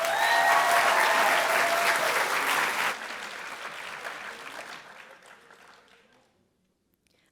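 A theatre audience at a Broadway-style stage show breaks into loud, full applause that drops off partway through, then fades gradually to near silence.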